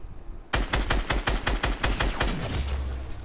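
Rapid burst of automatic gunfire in a Fortnite match starts abruptly after a quiet moment, a fast run of loud, close shots that rattles on for nearly three seconds with no talking.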